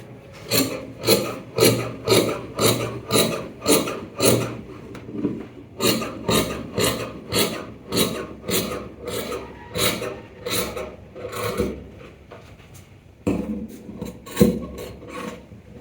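Scissors trim excess fabric from a trouser front panel, a series of rhythmic rasping snips close by, steady at first, then briefly pausing before a few more cuts.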